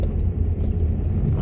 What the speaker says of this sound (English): let me just deal with the traffic again